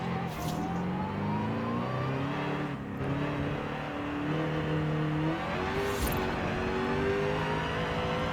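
A Jaguar SVR, a rear-wheel-drive car with over 700 horsepower, accelerates in Forza Horizon 5, its engine note climbing steadily through the gears with a couple of shifts, loud and continuous throughout.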